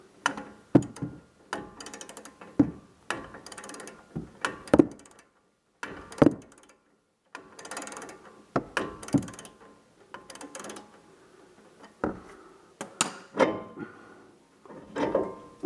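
A wrench ratchets down a brake rotor bolt on a Nissan Titan: repeated bursts of close clicking, each burst pausing briefly before the next, all fairly quiet.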